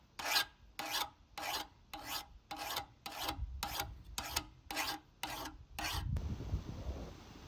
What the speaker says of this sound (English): I use a regular file for sharpening.